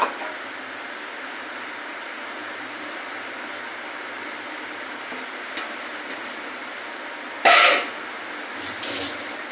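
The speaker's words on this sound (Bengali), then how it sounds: "মিক্সি বাটির যে জলটা আছে আমি একটু ধুয়ে দিয়ে দেবো" Water is poured to rinse a mixer jar into a dish while cooking a potol bhapa, making a steady close splashing flow with a brief louder clatter near the end and no talk.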